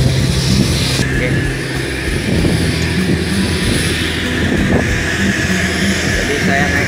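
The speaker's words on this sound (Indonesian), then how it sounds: "Jadi saya naik Sriwijaya Air. Itu dia pesawatnya ya." Sriwijaya Air airliner at Tanjung Pandan airport on Belitung island, its engines giving a steady loud roar and whine throughout, with a voice talking over it.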